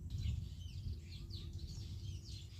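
Small birds chirp and twitter faintly in the distance outdoors in Maasai country, over a low steady rumble.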